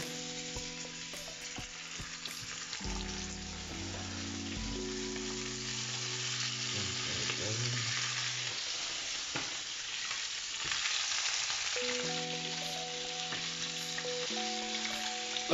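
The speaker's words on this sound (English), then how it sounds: "I just uh, put on some salt and pepper and, and it goes into the pan." Salt-and-pepper seasoned chicken pieces frying in a pan for an Ethiopian-style stew, a steady close sizzle and crackle filling the whole stretch, with some brief tonal pan or stovetop sounds mixed in and no talk.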